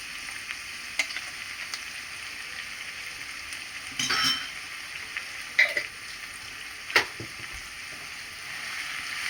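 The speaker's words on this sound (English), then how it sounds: "So we're gonna let this fry a little and then put the chana." Ground garlic with cumin fries in oil in a pan, giving a steady soft sizzle at close range, broken by a few sharper clinks and scrapes as it is stirred.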